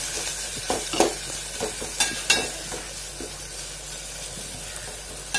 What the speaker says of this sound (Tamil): சேர்த்து இது எல்லாத்தையும் எண்ணெயில் வந்து நல்லா வதக்கி எடுத்துப்போம்